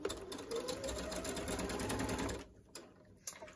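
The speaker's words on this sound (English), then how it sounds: "Then you want to pivot and sew the bottom, and that's going to join the two materials together." Sewing machine stitching fabric for a face mask, a fast steady close-up whirring run for about two and a half seconds, then stopping, followed by a couple of faint clicks and no talk.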